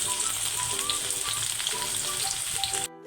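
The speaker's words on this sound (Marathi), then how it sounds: "तेल गरम झालेलं आहे त्याच्यामध्ये मी दोन तमालपत्र टाकते जो बारीक चिरून घेतलेला कांदा होता तो ॲड करते" Bay leaves and finely chopped onion fry in hot oil in a kadhai, a loud, even sizzle that runs unbroken until it cuts off abruptly near the end.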